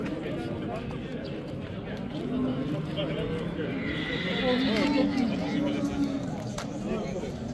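A horse neighs with a drawn-out, rising whinny at the Solomo livestock bazaar in Ala-Buka district, surrounded by steady market hubbub and nearby talking voices.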